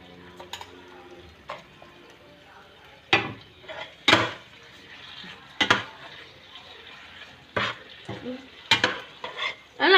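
Minced pork and holy basil are stir-fried in a pan, with sharp, irregular spatula scrapes and clanks against the metal standing out from a low, quiet sizzle.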